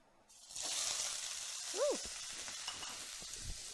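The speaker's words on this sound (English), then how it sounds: "And you know it's cooking, all the sizzle's going." Shrimp hit olive oil in a preheated skillet and start a steady, loud sizzle that carries to the end, briefly interrupted by a short exclaimed voice.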